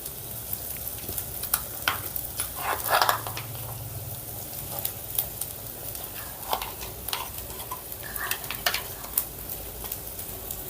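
Masala paste for stuffed brinjal curry sizzles and fries in a pan. The sizzle holds steady and moderately loud, with scattered clicks and scrapes from stirring and no voices.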